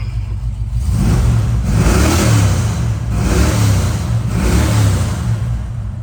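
A 1969 Ford Mustang Mach 1 V8 revs hard in repeated swells, its deep rumbling exhaust rising and falling close and loud for several seconds with no talking.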